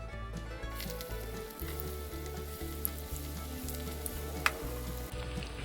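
Vermicelli-coated potato balls sizzle and crackle steadily in hot oil over a medium flame, a close, continuous frying hiss with occasional small pops and no voices.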